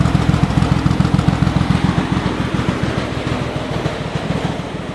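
A Nissan RB20DET engine idles with a two-cylinder misfire, giving a loud, close, uneven low thrum with irregular pulsing beats that run steadily throughout, with no voices.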